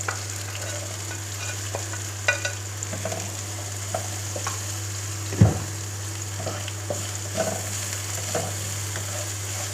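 Capsicum and carrots frying in oil in a pan for chicken Chinese rice, a steady close sizzle broken by occasional stirring scrapes and clinks, with no talking.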